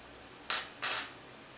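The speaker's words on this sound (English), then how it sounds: "Now we'll add a tablespoon of salt and mix it in very gently." A tablespoon stirs soaked glutinous rice with salt for Vietnamese bánh chưng, giving two brief, quiet scraping clinks against the bowl with near silence between them.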